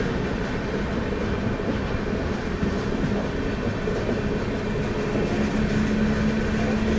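Pune Express pulling away from Morappur station after a short halt, a continuous close rumble of carriages and wheels on track with faint clatter, no talking.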